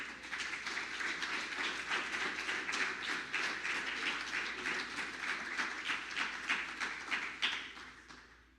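A church congregation applauding: steady, fairly even clapping from many hands at a moderate distance, keeping up for several seconds before tapering off at the end.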